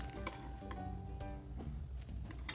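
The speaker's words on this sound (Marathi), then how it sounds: "आता यात घालायचं अंड्याचं लिक्विड." Beaten egg liquid poured into an oiled pan for an egg roll, a quiet close sizzle with a few soft clinks and scrapes, no talking.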